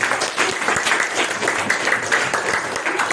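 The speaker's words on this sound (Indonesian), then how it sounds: "ya tepuk tangan berdua." Steady, dense clapping from a group of young hands fills the whole stretch, a continuous patter of many claps with no talking over it.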